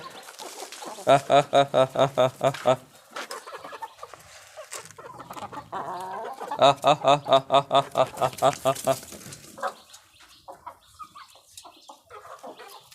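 A broody hen clucks in rapid rhythmic bursts, two loud runs of clucking close by, with softer chick cheeps and a voice speaking between them.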